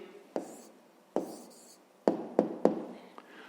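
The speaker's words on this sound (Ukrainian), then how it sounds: "записуємо відповідь" Pen writing an answer on paper during a fifth-grade maths exercise, heard as a few sharp taps and short scratchy strokes, several in quick succession, close and fairly quiet with no talking.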